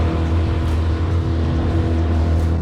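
A Tohatsu 8hp outboard motor at half throttle on a small boat: a steady, loud, close droning hum with an even mechanical buzz, no talk.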